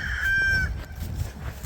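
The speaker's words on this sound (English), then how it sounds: "These are all roosters of the egg laying variety" An egg-laying breed rooster on a farm crows once, loud and close, in a rising call, followed by low barnyard rustling and background noise.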